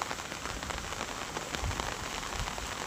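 Heavy rain in Nellore during a storm, a dense, steady hiss of drops pattering on surfaces, continuous and fairly soft with occasional heavier splashes and no voices.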